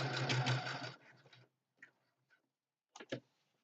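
A sewing machine stitching pine-needle shapes on a Christmas craft project runs in a steady close whir for about a second, then stops, followed by a few faint clicks and two sharper mechanical taps.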